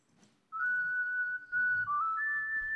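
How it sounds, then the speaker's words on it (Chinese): A person whistles a clear, sustained melody, loud and close, holding long notes that step up in pitch, with no talk over it. "你只要吹口哨就呗，开始。"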